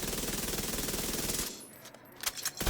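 The Vector weapon in a shooter video game fires a sustained rapid automatic burst, loud and close, then cuts off and a few scattered shots and clicks follow.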